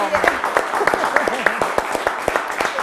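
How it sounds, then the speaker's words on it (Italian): A studio audience at a quiz show applauds, a dense run of close clapping with voices cheering over it. "Un applauso a noi!"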